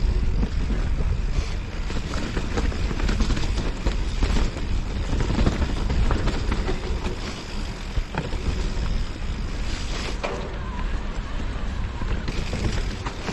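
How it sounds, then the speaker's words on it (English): Wind gusts across an outdoor trail on the Whaka100 course, a steady, loud rush buffeting the microphone for the whole stretch, with no voices. "Whew, bit of wind."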